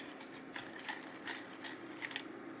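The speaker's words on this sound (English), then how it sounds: "It's a little steampunk pepper grinder I got at a craft sale." A small handmade steampunk pepper grinder cranked over black pepper, giving quiet repeated ratcheting clicks in short bursts at close range.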